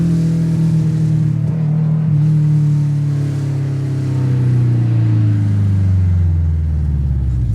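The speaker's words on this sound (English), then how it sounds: "I hope that engine sound shows up on the video." A Porsche sports car engine drones loudly and steadily, its pitch shifting as it pulls through the gears, heard from inside the car.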